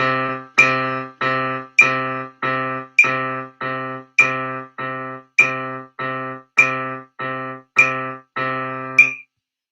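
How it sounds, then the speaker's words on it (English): Left-hand piano eighth notes thumbed from C, a steady pulse of about sixteen evenly spaced struck notes, each decaying before the next, clear and close with no talking. "Here's how the 8th notes will sound"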